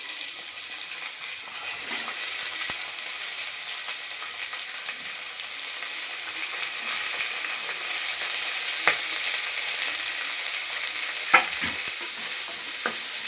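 Onions and green chilies frying in oil for mutton biryani, a continuous soft sizzle with occasional sharp clinks and scrapes of a stirring spoon, close and steady with no voices.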